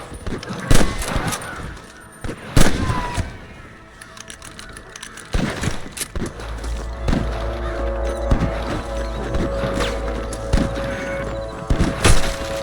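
Sharp gunshot cracks go off irregularly, some in quick bursts, over a steady soundtrack from the game Red Dead Redemption with a low rumble building in the second half.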